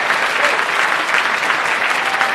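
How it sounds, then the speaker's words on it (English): Dense, loud applause from the audience at a city's State of the City address, given for a high school gospel alumni choir, sustained and even with no talking over it. "Let's give another round of applause for the Lincoln High School Gospel Alumni Choir"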